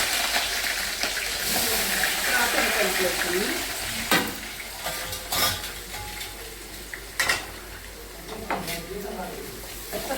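Green chillies go into a pan for liver curry, a continuous frying sizzle broken by several sharp metallic clinks of utensils against the pan, with faint talking in the background.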